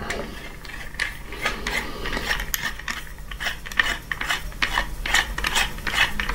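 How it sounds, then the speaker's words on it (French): A mount's screw clamp being tightened by hand, giving a run of close, repeated ratcheting clicks and mechanical grinding with no talking. "Voilà, on va serrer un petit coup"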